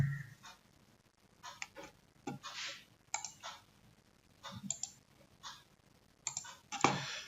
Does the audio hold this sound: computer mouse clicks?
yes